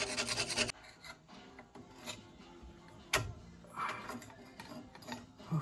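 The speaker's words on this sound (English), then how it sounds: "A little more chipping." Corroded, rust-clogged aluminum part being chipped clean, giving a run of uneven scraping and rasping strokes with a few sharper knocks, close and fairly loud, with no talking.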